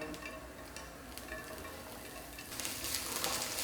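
Green chillies sizzle lightly in hot oil in a pan, a soft steady crackle that grows denser and louder toward the end, with no talking.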